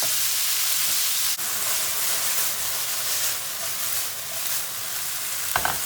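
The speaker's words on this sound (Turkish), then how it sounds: "Havuçlarla beraber tavukları kavuruyorum" Steady, loud sizzling of chicken and carrots frying over high heat in a hot pan, a continuous crackling hiss with a brief clatter near the end.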